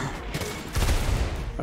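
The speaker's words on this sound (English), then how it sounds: "We're going to do a barrage of homing rockets because it just sounds awesome." A barrage of homing rockets fired in the video game Rounds bursts out as a dense, loud rush of overlapping blasts that swells midway and then trails off, heard with no talk.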